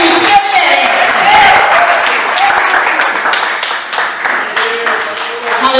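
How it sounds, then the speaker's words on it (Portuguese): Loud, sustained applause from a large church congregation, continuous clapping with some cheering mixed in. "Dá uma forte salva de palmas para Jesus, que ele merece."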